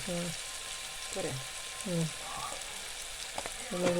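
Crab masala fries in a pan as turmeric powder is added, a close, steady sizzle and crackle with occasional stirring, while a voice murmurs faintly in the background.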